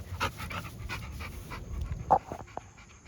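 Bully breed dogs pant in quick, rhythmic breaths close by, with a soft whimper-like tone and a few sharper sniffs or clicks near the end, over a low, rumbling background.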